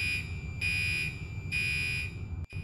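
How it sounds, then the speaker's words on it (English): An Oxeo extinguishing system panel in alarm state sounds its horn inside the room: a loud, steady pulsing tone in three long bursts with short gaps, over a low background rumble. "The first alarm signal has put our system into the alarm state, which you will be able to tell by the pulsing tone from the horn inside the room."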